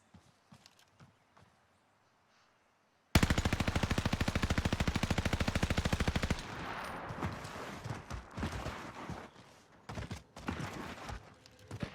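A DP27 machine gun fires in a video game, one rapid sustained burst of evenly spaced shots lasting about three seconds, followed by scattered softer game impacts and clatter.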